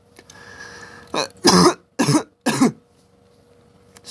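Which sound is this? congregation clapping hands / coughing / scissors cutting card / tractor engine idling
coughing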